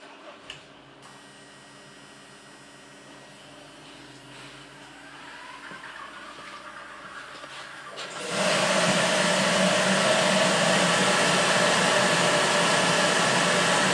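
A turbo fan heater switched on to its high setting: a low hum rises gradually, then a loud, steady whooshing roar of air starts abruptly and continues evenly, close by.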